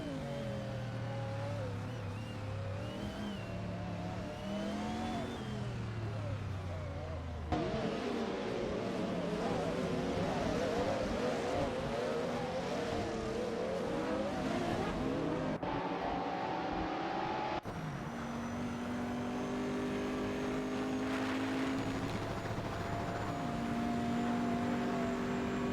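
Hypercars race around Road Atlanta in a video game, with engine whines rising and falling in pitch as cars accelerate, shift and pass, shifting abruptly between camera views over a steady stream of racing noise.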